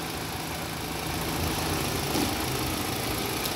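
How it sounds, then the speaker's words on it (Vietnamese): The engine of a used 2010 Hyundai Tucson (CDX), a Korean import with an automatic transmission, idles in a steady low hum, close and even, with no talk over it. "Đó, tiếng máy nổ đây."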